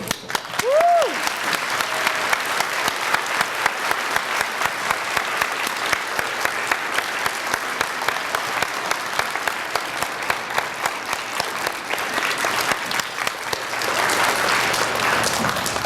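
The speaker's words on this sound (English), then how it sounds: "will you please stand so that we may give you a round of applause?" An elementary school audience gives Army veterans a long, sustained round of applause, dense clapping at steady loudness with a brief whistle-like tone near the start and swelling slightly toward the end.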